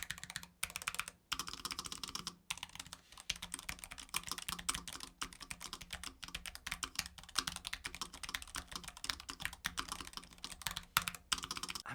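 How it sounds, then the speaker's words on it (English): Rapid typing on a low profile gaming keyboard: quick, light clicks in continuous bursts with a few brief pauses, close up and quiet, with no voices. "I love low profile keyboards"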